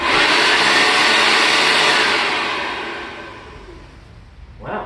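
A Sanitaire SC888 upright vacuum cleaner's motor, running after a teardown with a worn belt, whines loudly and steadily up close, then spins down and fades, with a short bump at the end.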